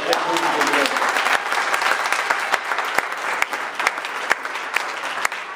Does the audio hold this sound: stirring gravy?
no